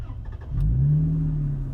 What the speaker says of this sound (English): To restart engine, shift lever to neutral and press the engine switch